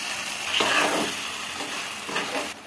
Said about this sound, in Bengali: এবারে চালটা দিয়ে দিচ্ছি।